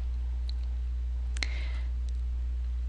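A single computer mouse click on the Import button in phpMyAdmin, a sharp close tick over a steady low electrical hum, with a few faint ticks scattered around it.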